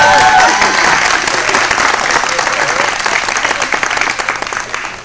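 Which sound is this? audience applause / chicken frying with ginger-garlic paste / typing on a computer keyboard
audience applause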